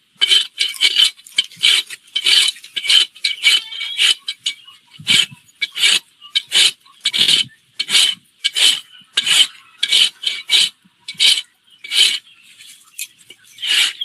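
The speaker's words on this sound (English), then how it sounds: "Lay your rasp flat on your heel and pay attention to where you have marked." A farrier's rasp files flat across a horse's hoof heel in repeated close, loud scraping strokes at a steady rhythm, each stroke a harsh gritty rasp followed by a brief gap, with no talk.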